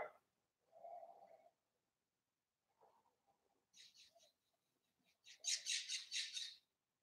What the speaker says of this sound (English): Man, you hear that bird?